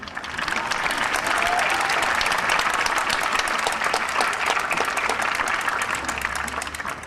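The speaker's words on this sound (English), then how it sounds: "how about a round of applause for everyone who has helped us get this far" A large crowd at the 2010 Malden High School graduation applauds loudly and continuously for those who helped the class, a thick, sustained roar of many hands.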